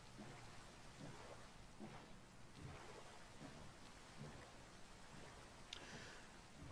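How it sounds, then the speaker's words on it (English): Steady rain from the Minecraft video game, a soft, even hiss with scattered drops and low rumbles throughout, faint and continuous with no voices. "It's raining."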